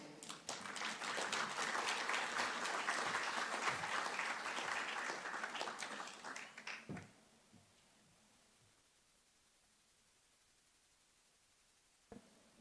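Audience applause at a formal education forum in Ghana as a speaker is invited up, dense clapping for about seven seconds before it stops abruptly, leaving near-silence broken only by a single faint knock.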